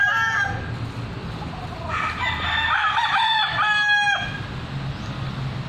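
Hennie gamefowl rooster on a farm crowing once, a loud, drawn-out cock-a-doodle-doo in the middle, with other fowl clucking faintly around it.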